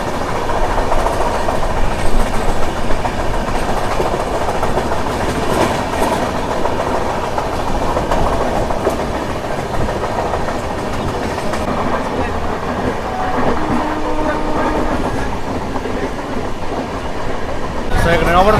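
The Bokaro Express rumbles steadily along with a continuous clattering roll and broadband rush, a few faint voices mixed beneath the noise.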